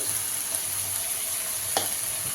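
Chopped capsicum, carrot and green chilli fry in a pan for Ching's hakka noodles, a steady close sizzle with one brief clink partway through.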